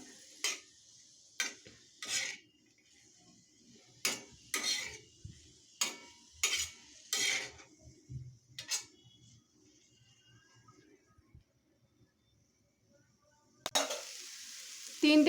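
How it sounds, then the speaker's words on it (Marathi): Pizza toppings sautéed in a pan over a low flame for an instant tawa pizza, a run of sharp spatula scrapes and clinks against the pan, then a quiet stretch before a burst of sizzling at the end. "तीन चार मिनिट असंच परतून घ्यायचं आहे कमी गॅसवर"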